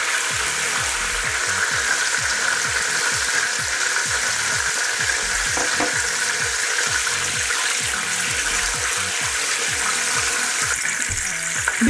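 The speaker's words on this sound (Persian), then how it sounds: "اولبه را درون دیگ ما سرخ میکنیم." Fenugreek (holba) frying in oil in a cooking pot, a continuous close bubbling sizzle with faint stirring scrapes throughout.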